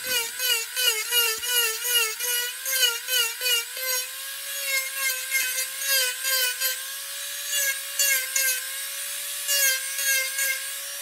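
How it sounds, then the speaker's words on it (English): A tungsten carbide hogging bit on a rotary tool carving the underside of a wooden cardinal's tail and rump, a steady high whine that rises and falls in repeated short grinding passes, close and alone. "So I'll use the hogging bit, which is a tungsten carbide bit. So I'm sloping that right on up."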